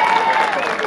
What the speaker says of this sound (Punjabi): ਜ਼ੋਰਦਾਰ ਤਾੜੀ